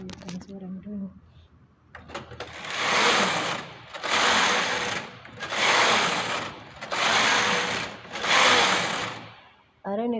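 Domestic knitting machine working yarn and thread for a punch-card lace top, with someone briefly talking before several loud, evenly spaced carriage passes sweep back and forth close by.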